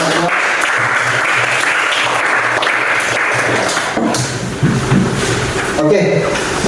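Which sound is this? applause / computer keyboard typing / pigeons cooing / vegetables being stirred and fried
applause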